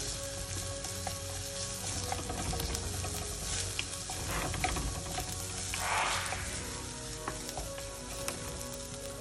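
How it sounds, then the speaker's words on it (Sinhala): Pieces of squid fry in a hot pan for a spicy Sri Lankan squid curry, giving a steady, close sizzle with soft crackles and occasional stirring. No talking is heard. "දැන් මේකට මේ අත ගාගත්ත දැල්ලු ටික කරගත්තා"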